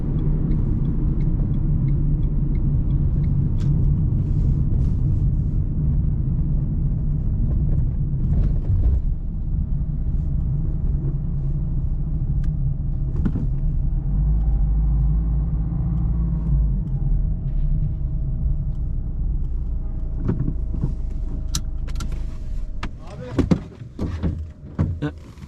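A car rolls into a gas station in Turkey, its engine giving a steady low rumble up close that eases off toward the end, followed by a few sharp knocks and clicks.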